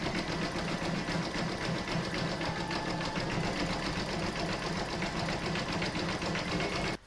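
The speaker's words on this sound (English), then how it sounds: "I'm now going to pop my hoop back in my machine and stitch round number 3" Embroidery sewing machine running satin stitch around the edge of an in-the-hoop poppy coaster: a fast, continuous, regular stitching clatter up close, ending abruptly just before the clip closes.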